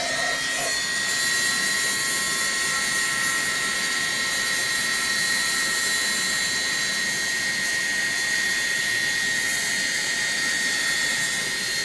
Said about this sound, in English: So I'm going to use the heat gun.